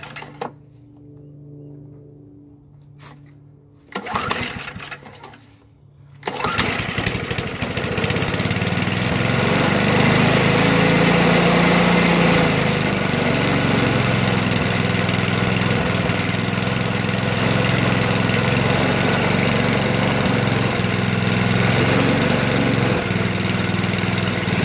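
A Toro 421 snowblower engine cold-starts outdoors in winter: a couple of pull-cord attempts, then the engine catches and settles into a loud, steady, continuous run close by.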